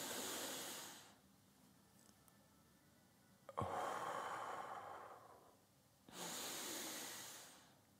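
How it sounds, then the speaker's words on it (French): Slow, deliberate breathing shown as an example of correct breathing: three long, soft breaths, each a few seconds of airy rushing with quieter pauses between. The middle breath is the loudest, and no one speaks. "Ça, c'est une bonne respiration."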